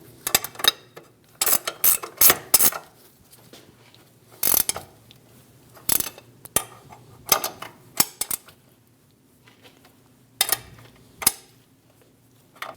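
A ratchet wrench tightening the upper ball joint nut on a 2001-2006 Chevrolet Silverado 2500 HD, sharp metallic clicks and clanks in irregular bursts, close up, separated by short quiet pauses.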